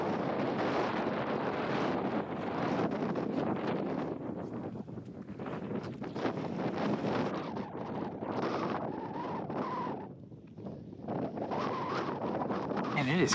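Strong wind gusting across an open desert ridgeline on a cold morning, a steady loud roar buffeting the microphone with brief lulls near the end.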